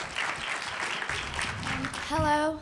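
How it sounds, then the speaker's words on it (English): An audience at a school song showcase claps for the Downtown School West African drummers, moderately loud applause that fades as a voice begins speaking near the end. "Let's give them a great round of applause."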